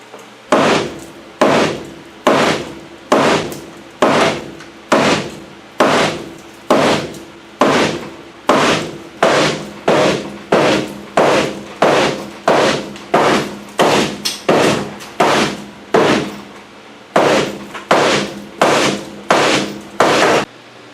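Repeated hammer blows dimple the back of a van roof panel, a steady series of sharp, loud metallic strikes roughly every half second, close and alone with no talking.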